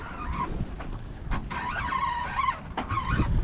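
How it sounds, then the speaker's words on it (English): A sailboat's autopilot drive motor whines loudly with a steady mechanical tone, cutting out briefly in places and rising again, running close by over wind and water noise. "autopilot, you're so loud"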